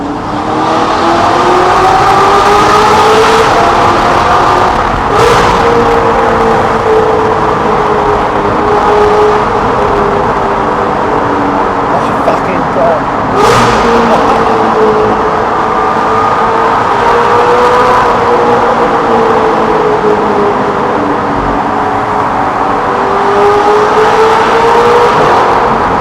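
Audi R8 with a loud aftermarket exhaust accelerating hard through the gears, a continuous roaring engine note rising and dropping with shifts and downshift cracks, loud and close throughout.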